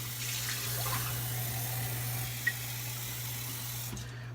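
A bathroom tap runs steadily into a sink while the water warms up for shaving. The broad, close hiss is constant and has a low electrical hum beneath it, and it stops abruptly near the end.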